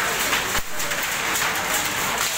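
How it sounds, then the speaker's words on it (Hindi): Hail falling in rainy weather on the way to Vaishno Devi, a dense steady patter of hard drops, loud and continuous throughout, with a brief dip near the start. "बारिश का मौसम, ओले गिर रहे हैं, आपको आवाज़ आ रही होगी"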